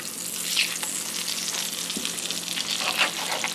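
Eggs fry in bacon grease with a steady, close crackling sizzle and scattered sharper pops throughout.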